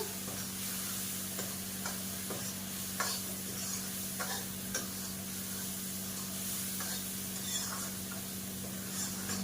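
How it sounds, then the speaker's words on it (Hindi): Chillies and spices frying with tomato for a gravy, a quiet continuous sizzle with soft scraping stirs recurring every second or so under a steady low hum. "अब इसे मैं भूनती हूँ सारे मिर्च मसालों को।"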